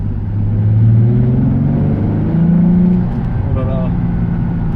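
A Nissan 350Z accelerates, its engine rising in a loud, close, rumbling drone heard from inside the cabin, with tones climbing and dropping between shifts, and a voice talking over it.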